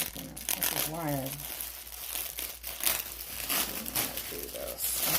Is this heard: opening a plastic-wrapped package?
yes